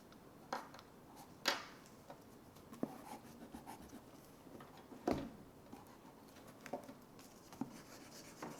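A pencil drawing Charmander on paper, making soft scratchy strokes and taps at an irregular pace, close up and quiet, with no talking.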